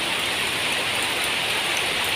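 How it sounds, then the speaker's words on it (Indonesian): Heavy rain pours steadily onto an outdoor coconut bonsai left in the open during the rainy season. It makes a dense, even hiss that continues unbroken throughout, with no voices. "langsung terkena air hujan, diguyur hujan siang dan malam"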